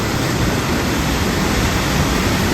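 The waterfall and whirlpool at Devil's Bridge in the Elan Valley give a loud, dense, unbroken roar of rushing water, close and steady throughout with no voices.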